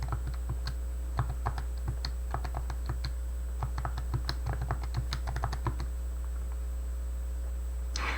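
Keys on a calculator keypad are pressed to enter data, giving a string of light, irregular clicks over a steady low hum before falling quiet near the end.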